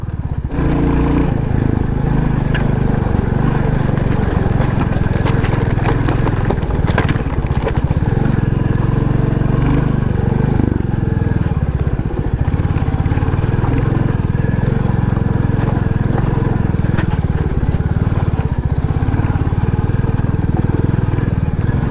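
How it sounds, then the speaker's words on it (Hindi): A Royal Enfield Bullet 350 motorcycle climbs uphill on gravel, its engine thumping loudly and continuously under heavy wind buffeting for the whole stretch. "हम इस मोटरसाइकिल को लेकर ऊपर की तरफ जा रहे हैं।"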